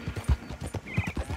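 Horse hooves clip-clopping at a brisk, even rhythm during riding in Red Dead Redemption 2, close and clear with a short whinny-like tone partway through, no talking.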